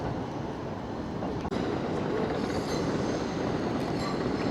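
A suburban train arriving in Tokyo, with a loud continuous rumble of railcars and squealing wheels throughout, heard fairly close with a brief dropout partway through.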